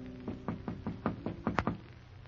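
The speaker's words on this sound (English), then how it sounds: "I heard someone at the door." Knocking on a door in an old radio drama, about a dozen soft, fairly evenly spaced raps in a quick series, muffled and modest in volume, with no voices.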